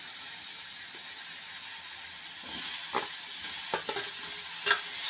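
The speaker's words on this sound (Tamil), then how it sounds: "இப்போ லைட்டாக கிண்டி விடலாம் ஃப்ரெண்ட்ஸ்" A spoon stirs tomatoes and masala in a pan for a chana masala, a few scraping, clicking strokes over a faint steady hiss, close and quiet, with no one speaking.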